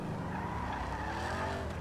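Tires skid and squeal under a racing car in a multiplayer driving video game, a sustained engine-and-tire whine at moderate level with no talk over it.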